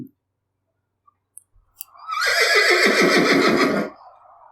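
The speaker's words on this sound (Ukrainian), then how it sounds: "It's okay, Claudia. It's a horse." A single loud horse whinny rings out close by, a drawn-out neigh of rapidly quavering pulses that falls in pitch over about two seconds, heard alone after a few faint clicks.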